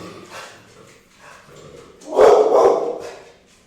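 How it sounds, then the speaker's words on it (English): A pet dog named Dice lets out a harsh, nasty bark: faint yips and whines first, then one loud, close, gruff bark that trails off after about a second. "he's cute and all, but he's got a nasty ass bark"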